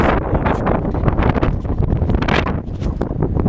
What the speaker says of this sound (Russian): Ветер, сильный ветер.